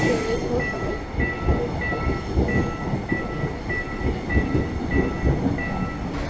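A Seoul metro train passes nearby with a continuous heavy rumble and regular clickety-clack of wheels over rail joints, steady and loud throughout without speech.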